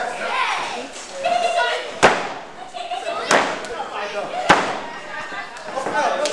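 Hard blows and body slams land in a wrestling ring, with three sharp loud thuds spaced a second or so apart under continuous excited commentary.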